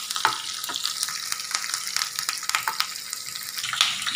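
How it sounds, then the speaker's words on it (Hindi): Garlic and green chillies crackle and sizzle in a pan as they are stirred and fried, with a steady broadband frying hiss broken by frequent sharp pops and scrapes, close and fairly loud, no voices. "इन दोनों चीज़ों को हम चलाकर अच्छे से भून लेंगे"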